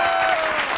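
A crowd breaks into loud, dense applause at an Independence Day event with the Sashastra Seema Bal, a brief burst of many hands clapping together.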